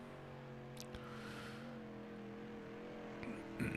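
A street stock race car runs a qualifying lap at Kokomo, its engine a steady, sustained drone that holds an even pitch with a slight rise near the end.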